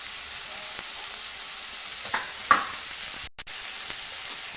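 Spices go into a frying pan of Maharashtrian bhogi vegetable, with a steady oil sizzle, a few soft clinks and stirring sounds, and a brief clatter partway through.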